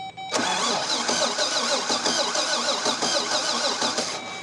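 Engine of a Toyota FJ40 with no spark, cranking without starting, a loud close rhythmic starter churn that runs steadily for about four seconds after a brief pause.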